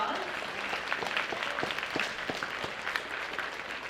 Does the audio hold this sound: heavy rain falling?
no